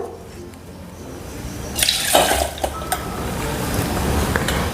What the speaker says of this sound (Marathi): आता याच्यातलं पाणी सगळं आपण काढून टाकू